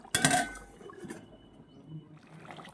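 A metal lid clinks onto a pot of simmering chicken kosha: one sharp ringing clink up close, then a softer knock and a faint kitchen hum.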